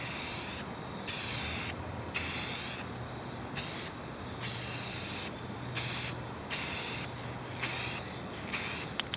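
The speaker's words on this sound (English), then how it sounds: "Make sure when you're spraying, you're also getting the top edge of the light and the corners of the light." Clear coat sprayed from a can onto a car headlight during a headlight restoration, arriving as about eight short, loud hissing bursts separated by brief pauses.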